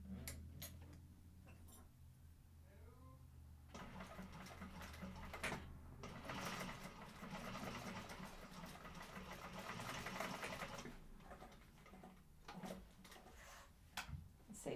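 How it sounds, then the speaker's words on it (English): A sewing machine bastes fabric pieces for a Wayfarer sling bag, a quiet rapid ticking hum that runs steadily for several seconds with soft handling noises before and after. "I'm just going to go ahead and baste those in place for now."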